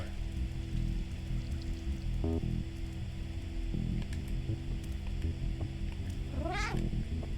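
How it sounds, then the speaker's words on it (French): A cat meows in the video game Stray, one rising, wavering call near the end over steady background music and ambient game sound. "Miaou."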